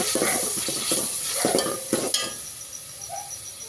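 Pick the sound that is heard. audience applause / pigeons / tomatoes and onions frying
tomatoes and onions frying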